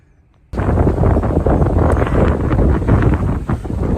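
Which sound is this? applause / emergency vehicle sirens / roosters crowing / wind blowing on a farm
wind blowing on a farm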